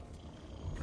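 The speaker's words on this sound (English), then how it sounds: "I forgot that cat was in here." A cosmic cat in the video game Destiny 2 gives a brief, low growling roar, fairly quiet and swelling slightly toward the end, with no speech.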